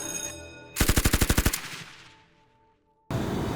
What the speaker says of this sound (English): Sounded like gunshots.